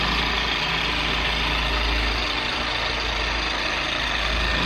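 Polishing machine running at speed 2 on the paint of an M3 during paint correction, a loud steady motor drone with a constant low hum, close up and uninterrupted.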